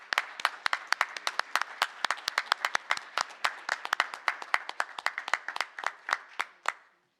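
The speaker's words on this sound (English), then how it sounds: "Can we give a round of applause to our new incoming president?" A board of education meeting audience gives a steady round of applause for the newly elected incoming president, a moderate-sized room of clapping hands, fairly close and lasting several seconds before tapering off, with no talk over it.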